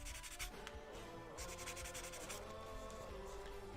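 Rhythmic rubbing of a sanding sponge over a small model part, quiet, close strokes repeating back and forth in a steady pattern with no talking.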